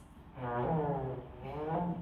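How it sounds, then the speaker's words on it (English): A faint, brassy trombone blast swelling in two long, buzzy notes, like a low groaning fanfare. "Trombone players get to make a really cool sound."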